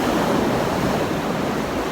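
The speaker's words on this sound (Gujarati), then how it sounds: "મોટા મોટા મોજા આવે છે." Big ocean waves roll in at Narpat beach, a steady broad roar of surf that stays loud and continuous with no voices over it.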